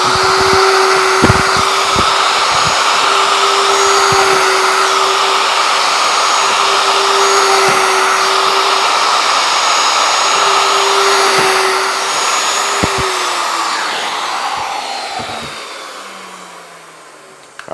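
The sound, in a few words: drilling first holes in wood cabinet with shop vacuum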